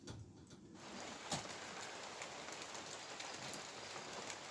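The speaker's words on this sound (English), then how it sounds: "it's a rainy day outside the workshop again today" Steady rain falls outside a workshop, a dense, even patter of drops on surfaces continuing throughout, with a brief louder knock partway through; no talking.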